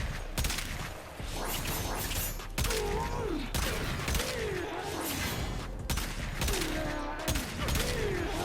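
Rapid bursts of Aklex Prime pistol fire in Warframe, a shooter game, repeating in clusters over busy combat noise with a voice talking along in the background.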